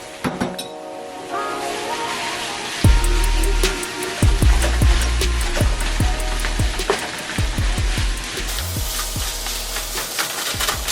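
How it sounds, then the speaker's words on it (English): Day-old rice and kimchi being fried in a pan, a continuous sizzle broken by repeated scraping and tossing knocks from mixing, close and fairly loud. "And then I added about 3 cups of day-old rice and mixed."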